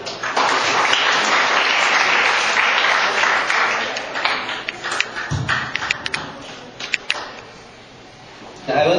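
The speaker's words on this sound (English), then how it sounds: "Ladies and gentlemen, let's give a round of applause to Mr. Architect Raison John Bassig" Seminar audience applauding an architect as he is introduced, a dense sustained wash of clapping for several seconds that thins into scattered claps and then fades, with a voice briefly under it.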